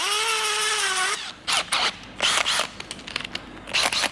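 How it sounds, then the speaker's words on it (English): A power drill bores a tiny pilot hole during a 1932 Ford roadster frame build. A steady whine rises in pitch, then breaks into short, uneven bursts of grinding and cutting, close and fairly loud. "So I'm gonna pre-drill a tiny little hole."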